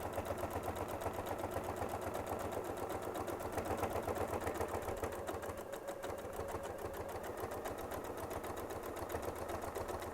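A sewing machine quilts on a Sew Steady table with a rapid, even mechanical stitching rhythm, close and steady for the whole stretch, briefly easing once partway through.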